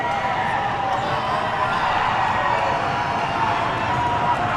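A packed college basketball gym crowd roars in a loud, steady wall of cheering and shouting during a men's game, dense and unbroken throughout.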